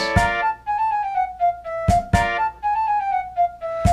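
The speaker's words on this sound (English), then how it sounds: "and the flute sounds like this." A high, airy flute carries a gently sliding melody in phrases separated by brief pauses, with occasional percussive thumps underneath.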